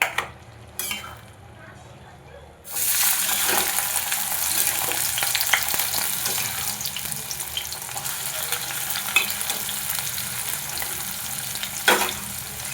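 Chopped onion and garlic hit hot oil in a pan and burst into loud, continuous close sizzling that keeps frying steadily, with a few clinks of a utensil and no talk.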